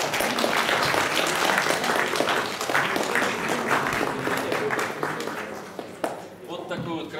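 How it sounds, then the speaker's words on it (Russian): Applause from an audience at an award ceremony where an honorary police association badge is presented, steady dense clapping filling most of the clip before a voice starts speaking near the end. "Аплодисменты!"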